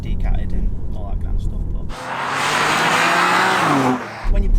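A de-catted BMW M2 Competition accelerates hard in one loud, rising roar lasting about two seconds, then drops away. Quieter road noise comes before and after the burst.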